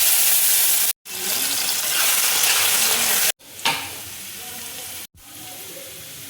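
Potatoes hit hot oil in a wok and sizzle loudly, with stirring scrapes and brief gaps where the sound cuts out, no talking.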